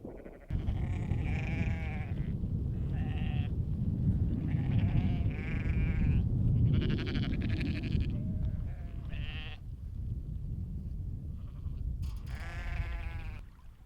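Sheep on open Cornish moorland bleat repeatedly, several animals calling in overlapping bursts near the listener, over steady wind noise.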